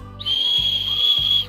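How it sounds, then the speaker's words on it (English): A whistle built into the chest strap of a running vest gives one loud, close, shrill blast lasting just over a second, with a faint low hum behind it. "There you go. There's the whistle."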